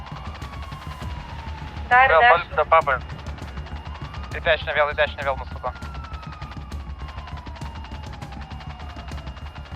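Video game gunfire aimed at the player cracks out in two sharp bursts amid scattered single shots and engine drone, while voices talk over it.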